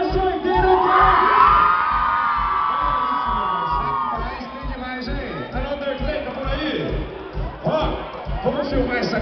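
A crowd at the Agrofest 2018 concert in Nova Friburgo shouts and screams loudly over amplified music, with a strong rhythmic beat and bursts of cheering.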